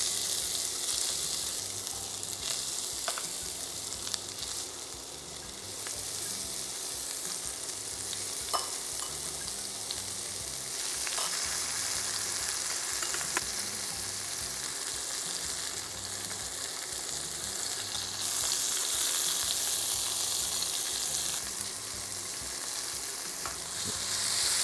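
Aromatics sizzle and fry in vegetable oil for a soya pastelle filling, with a steady, moderately quiet crackling hiss and occasional stirring clatters, and no voices.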